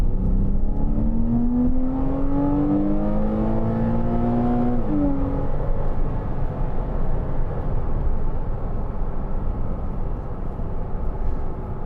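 The 2.9-litre engine of a 2012 Porsche Cayman 987 with PDK gearbox revs while driving, a loud, rising tone that climbs through a gear then drops at a shift, easing into a steady cruising drone over road rumble.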